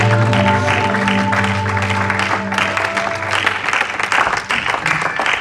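A church congregation at a Sunday celebration service claps and cheers over sustained organ or keyboard chords, the applause steady and full throughout.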